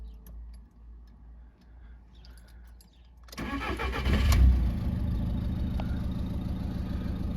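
A Volkswagen 1.6 TDI diesel engine cranks and catches after a quiet stretch, revving briefly before settling into a steady, close, rattly diesel idle.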